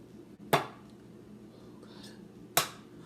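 Two sharp, separate cracks of raw eggs being broken for red velvet cake pops by a gloved hand, each a crisp snap with a short tail in a quiet kitchen, about two seconds apart.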